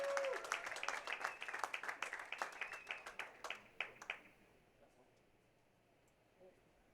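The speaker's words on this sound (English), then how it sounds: "Let's give them a huge round of applause" A crowd at a women's professional bowling regional finals claps, with dense, quick claps that fade out after about four seconds, leaving a quiet hall.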